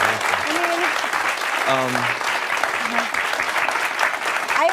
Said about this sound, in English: So just give her another round of applause